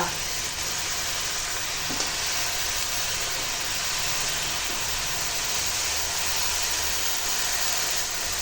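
Cut pumpkin greens and stems cook in a pan with spices and water, giving a steady, loud, continuous sizzling hiss close by with no clear talking.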